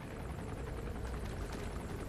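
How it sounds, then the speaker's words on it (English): In the video game Metal Gear Solid 5, a helicopter thrums steadily with a dense, continuous rotor roar close at hand, and no one speaks. "Chopper's coming back."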